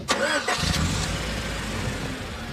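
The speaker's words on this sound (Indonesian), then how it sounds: "Dan tiba-tiba pas mobil nyalain" A car engine cranks briefly and catches, then settles into a steady idle. The start is a short, loud burst and the idle that follows is close and even.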